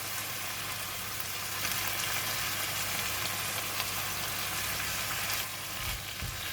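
Basil leaves are added to spicy minced pork in a hot pan, and a steady, loud sizzle of frying runs throughout, with a slight rise as the leaves go in and a brief soft knock near the end.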